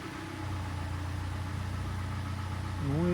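A Hyundai i40 with the G4NA engine idles with cylinder knock, a steady low mechanical hum with a faint rhythmic ticking running through it, heard close and continuous, rising slightly in pitch at the very end.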